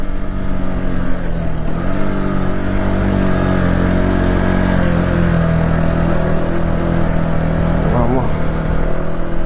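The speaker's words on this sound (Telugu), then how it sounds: "టైర్ స్పిన్ అయిపోతుంది." KTM Adventure 390 motorcycle revving at a sand motorsport track, its engine droning loud and steady with the tyre spinning, while people talk over it throughout.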